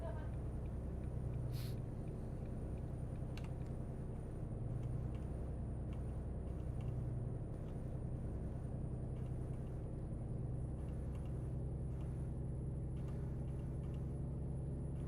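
A Volvo truck drives steadily in American Truck Simulator, its low engine drone rumbling continuously throughout, with a brief hiss and faint clicks over the top.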